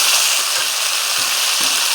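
Morola fish frying in a pan for a spicy curry, a steady hiss of hot oil throughout with a few soft low knocks as it is stirred, close and fairly loud, with no talking.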